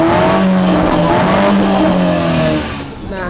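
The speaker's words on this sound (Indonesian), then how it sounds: "mobil ini punya 2 knalpot yang suaranya menurut gue ini enak banget loh" A loud, close BMW 320i (2018) engine with a deep dual-exhaust rumble, holding a steady rev before easing off slightly at the end.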